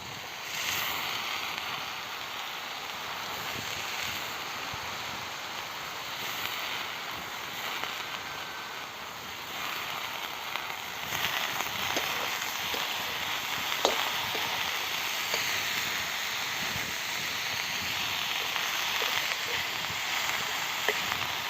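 Chopped abai bean pods frying in a pan over a village wood-fired chulha, a steady broad sizzle and crackle running continuously at even loudness throughout.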